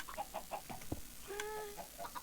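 Chickens cluck in the Minecraft video game, a string of soft, quiet clucks and one brief higher squawk, sounding somewhat distant over a low background hum, with no voices.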